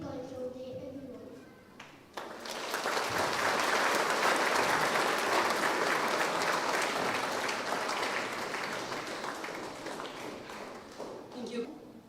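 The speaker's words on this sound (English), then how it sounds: "Let's have applause" A school Cultural Day audience breaks into sustained applause after a brief spoken lead-in, the dense clapping swelling quickly and holding steady for about ten seconds before thinning toward the end.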